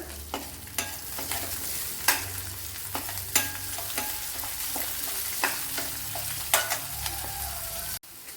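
Curry leaves fry in hot oil with a constant sizzle, punctuated by sharp, regular scrapes and taps of a spoon stirring the pan, close and clear with no voices.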